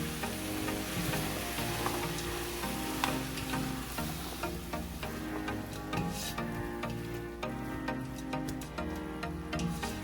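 Tomato, thyme and rosemary go into a pot of homemade hearty soup, giving a steady sizzle and frying crackle that runs close and continuous under a layer of background music.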